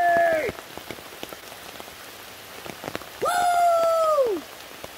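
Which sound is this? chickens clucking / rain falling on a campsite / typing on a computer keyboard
rain falling on a campsite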